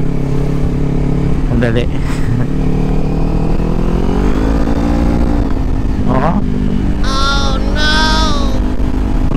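Kawasaki Ninja 400 revving in third gear with a slipping clutch, the engine note climbing and dropping in loud repeated blips, with someone talking over it.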